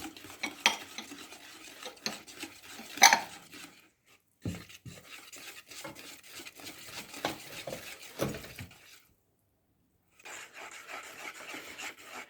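A cacao mixture is stirred in a bowl with steady scraping and rubbing strokes and occasional clinks of utensil against the bowl, pausing briefly twice before resuming, close and moderately loud without talk.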